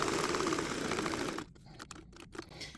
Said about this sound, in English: So needle in the needle down position, turn and stitch.